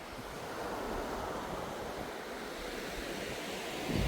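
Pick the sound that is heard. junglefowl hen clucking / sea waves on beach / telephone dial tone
sea waves on beach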